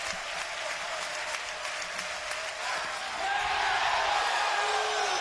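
Ole Miss fans at a 2018 Oxford Regional baseball game against Tennessee Tech erupt in applause and cheering, a broad crowd roar that swells louder toward the end.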